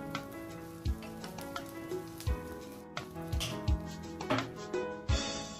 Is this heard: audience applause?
no